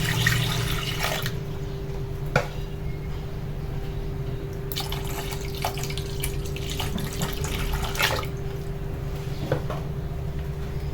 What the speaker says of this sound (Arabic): غندير لتر ديال الحليب